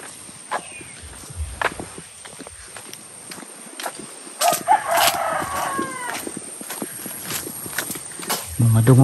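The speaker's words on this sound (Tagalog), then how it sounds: "Tingog sa manok." Chickens cluck and a rooster crows outdoors in a rural province, with hoof clops and footsteps scattered through the scene and a louder burst of fowl calls midway.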